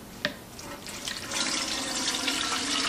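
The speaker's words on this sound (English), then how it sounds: "shake it up, and I'll pour it, each one, through the strainer" Kefir poured through a strainer into an 8-quart pot, a steady trickling, splashing liquid stream that builds after a brief clink and continues close and alone.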